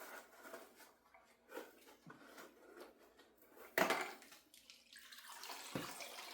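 Melted beeswax trickles and drains through a filter with a soft, uneven watery flow. A sharp clunk sounds partway through, and the pouring then swells louder toward the end.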